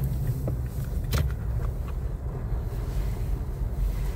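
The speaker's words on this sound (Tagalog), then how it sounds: "malakas ang hangin" Strong wind during a storm, blowing as a continuous low roar and buffeting against the microphone, with a brief gust-like burst near the start and no one speaking.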